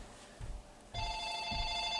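After a second of quiet room tone with a few soft thumps, a telephone starts ringing with a bright, steady electronic tone that carries on to the end.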